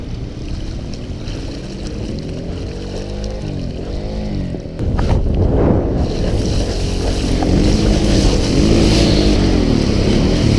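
A motorcycle crossing a river in Iceland, with a steady engine drone under heavy rushing water and wind noise. The sound grows louder and rougher about halfway through.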